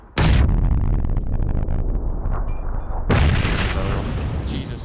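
Two loud grenade blasts from the battle royale game PUBG, one near the start and another about three seconds later, each a sharp broadband boom with a long rumbling tail, with faint game chatter underneath.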